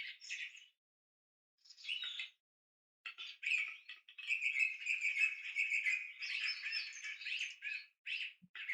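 A bird gives croaky, knocking calls in short bursts separated by silence, then a longer run of rapid rasping notes, fairly faint and alone.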